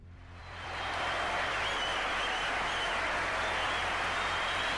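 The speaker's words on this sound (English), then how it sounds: "Big round of applause for the guys." A live audience applauds the guests at the start of a show, the clapping swelling within the first second into a loud, sustained roar of hands that continues without talk.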